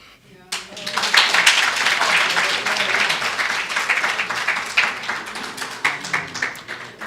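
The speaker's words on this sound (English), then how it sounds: "if that round of applause does not indicate how well received the input was" A meeting audience at a student general council breaks into a sustained round of applause, loud and dense clapping that swells quickly and continues steadily for several seconds.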